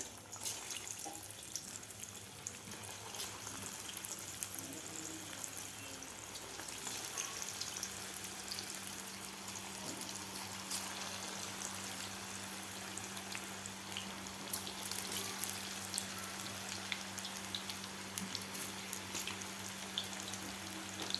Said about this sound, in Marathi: तेल आपलं गरम झालेलं आहे. तर आता यामध्ये आपण हे मसाला लावलेली सोयाबीन वडी घालून घेऊया.